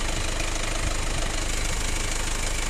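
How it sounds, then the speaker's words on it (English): A Mazda Bongo Ford Freda engine idles while warming up, a steady close mechanical rumble with a faint knocking rattle, continuous and fairly loud with no talking. "Just get the engine warm and then we'll start revving shortly once you've got some heat into the engine."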